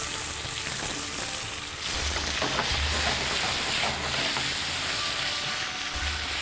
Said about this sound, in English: I'm just frying them, shallow frying them lightly on high heat